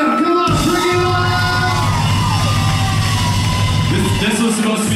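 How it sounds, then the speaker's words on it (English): A concert crowd cheers, yells and whoops loudly at a live show, with sustained roaring and shouting and some clapping throughout. "So a big round of applause for them."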